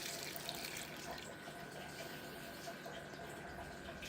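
Liquid pours into a bowl for French bread dough, a steady close rushing stream running continuously without pause over a low background hum.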